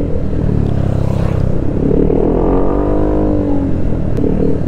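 A loud Honda scooter with a Villain aftermarket exhaust roars close by, revving up and easing off in a rising, falling sweep, with a deep throaty rumble and no talking.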